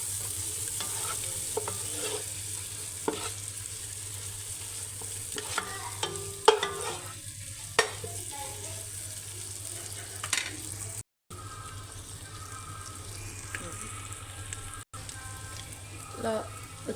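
Mint leaves frying in oil for mutton biryani, stirred in the pan: a steady soft sizzle under scattered scraping and clinking of the spoon, close by, with a brief break partway through.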